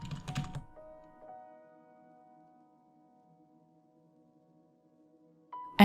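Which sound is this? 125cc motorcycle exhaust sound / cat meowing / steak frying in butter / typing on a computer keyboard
typing on a computer keyboard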